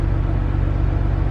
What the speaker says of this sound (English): And so now I'm gonna let the car warm up